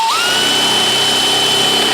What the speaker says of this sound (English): We're gonna pilot drill this one.